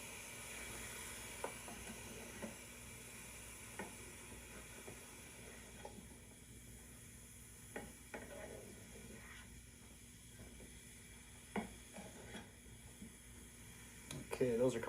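Fajita vegetables starting to scorch in a pan, a soft, steady hiss of sizzling with occasional small clicks and pops, fairly quiet, while someone talks throughout.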